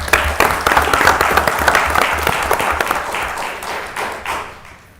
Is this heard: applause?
yes